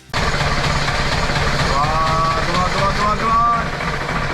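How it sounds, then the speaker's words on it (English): A boat's diesel engine is cranked to bleed air from the fuel system after a failure at sea, a loud, steady mechanical drone that kicks in abruptly and holds throughout, with a faint whine rising partway. "We had to keep on cranking the engine to bleed it."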